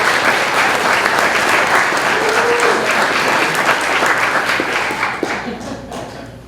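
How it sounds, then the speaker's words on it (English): A gala crowd gives a loud, dense round of applause for a public school, clapping steadily before thinning out and fading toward the end. "Can we give a round of applause for our public school?"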